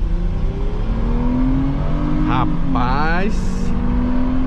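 A Hyundai Azera V6 sedan engine rises in pitch as it revs and accelerates hard, loud and close, under a steady road roar, while someone speaks briefly.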